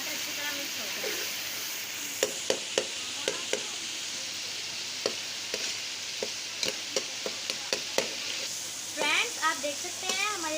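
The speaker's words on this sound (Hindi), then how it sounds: "फ्रेंड्स अब हम टमाटर को अच्छी तरह मैश करना है ताकि हमारे टमाटर अच्छी तरह मिक्स हो जाए।" Tomatoes are mashed in a pan with ghee while frying the masala for a Bannu-style pulao, giving a soft continuous sizzle punctuated by a run of sharp clicking taps of a spoon against the pan.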